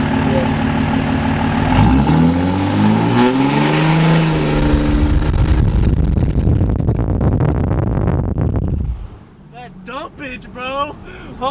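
A third-generation Cummins diesel truck engine fitted with a Smarty Touch programmer revs hard and loud, its pitch rising and holding before cutting off, as people talk excitedly nearby.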